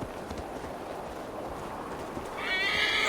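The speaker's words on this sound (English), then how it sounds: "Whoa! A horse? Easy there, big fellow." A horse whinnies loudly near the end over a dense, rumbling backdrop of hooves and movement in Assassin's Creed Valhalla.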